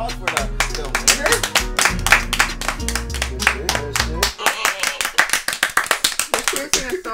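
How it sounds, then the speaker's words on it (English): Applause for the winner of a spicy noodle challenge: a crowd claps briskly over background music with a bass line, then the clapping carries on alone in sharp, uneven bursts while voices talk. "Can I get another round of applause for the winner?"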